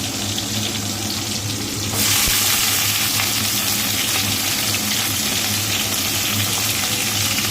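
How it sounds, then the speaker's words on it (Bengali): Vegetables including drumstick, pointed gourd, eggplant, pumpkin and potato frying in hot oil with five-spice (panch phoron); a loud, continuous close sizzle that swells sharply as the vegetables go into the pan. "পাঁচফোড়ন দিয়ে এবার দেখো তরকারিটা দিয়ে দিচ্ছি"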